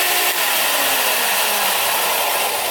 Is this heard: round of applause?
no